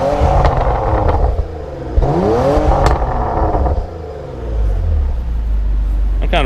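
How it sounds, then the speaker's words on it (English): A 2015 Porsche Macan twin-turbo engine revs hard several times, rising and falling in pitch, then settles into a low idle rumble. A voice speaks over it. "Go ahead and rev it up a little bit."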